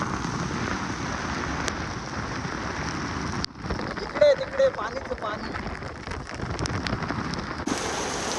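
Heavy rain hisses continuously, with a brief dip and some faint indistinct sounds in the middle before the downpour resumes at full strength.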